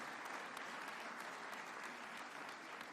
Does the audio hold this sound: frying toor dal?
no